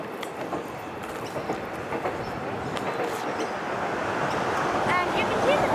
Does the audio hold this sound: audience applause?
no